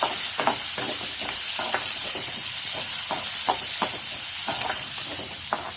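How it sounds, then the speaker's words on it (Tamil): Chopped onion frying in a pan: a steady, close sizzle with repeated scraping clicks from stirring, and no voices. "அதில் ஒரு வெங்காயம் நறுக்கி வச்சு அதையும் அதில் சேர்த்துக்கணும்."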